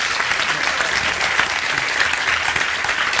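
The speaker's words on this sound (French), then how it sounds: "je pense qu'encore des applaudissements pour lui" Steady, dense applause from a crowd at a video game masterclass, continuous and fairly loud throughout with no pauses.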